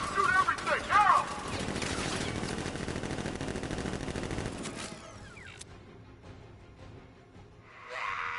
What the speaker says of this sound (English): Open fire! Shoot everything!